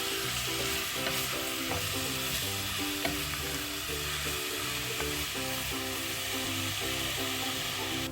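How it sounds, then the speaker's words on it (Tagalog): Ground meat sizzles steadily in a hot pan while a utensil stirs it, bringing rhythmic scraping and clattering over a dense, continuous frying hiss, with a constant background hum and no voices. "Yan natin lang haluin mabuti."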